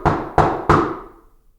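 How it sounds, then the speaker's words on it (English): Three loud, sharp knocks strike a wooden cabin door at a deliberate, even pace, each ringing out briefly before the last fades into silence. "Another knock. This time, louder."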